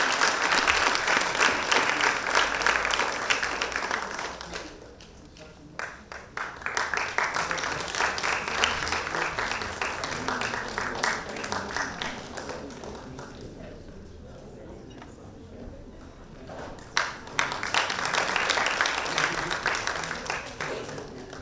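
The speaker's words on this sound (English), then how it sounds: "let us just give them a huge round of applause" Audience applause for the panelists at a South Asian conference on sustainability in the textile and apparel industry, with sustained clapping that dips briefly midway and then swells again, steady and fairly loud throughout.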